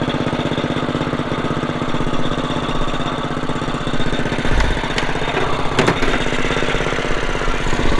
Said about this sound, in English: And we're just idling.